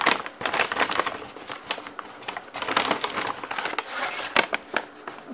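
A large plastic souvenir bag being handled up close, giving irregular bursts of crinkling and rustling that come and go in uneven clusters with no talking.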